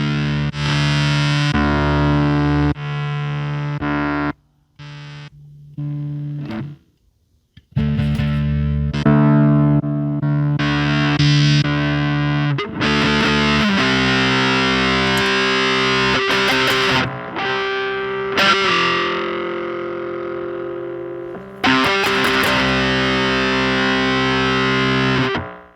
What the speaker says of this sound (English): classic distortion, I could probably make that sound the way